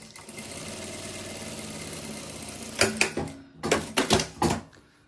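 A domestic sewing machine stitches white fabric for a Christmas kitchen piece, first a low steady motor hum, then several short bursts of rapid, loud mechanical chatter near the end.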